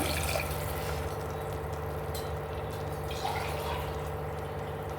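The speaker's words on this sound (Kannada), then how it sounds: "ನೋಡಿ ನೀರು ಹಾಕ್ತಾ ಇದ್ದೀನಿ ನಾಲ್ಕು ಲೋಟ" Water pours and trickles steadily into a pressure cooker close by, four glasses' worth, a continuous liquid splashing with no speech over it.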